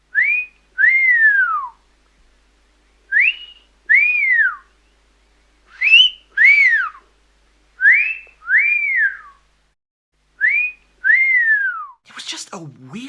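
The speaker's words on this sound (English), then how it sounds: "you hear that cat-calling whistle sound being made" Two-note wolf whistles used as a cat-calling sound effect in the film D.O.A. repeat five times in a steady rhythm, each a rising then falling swoop, clear and close against silence.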